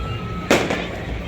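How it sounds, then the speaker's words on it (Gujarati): A single sharp firecracker bang bursts out loud against a low background hum, then fades quickly. "એક બાજુ ફટાકડા ફૂટે છે ધમાકેદાર."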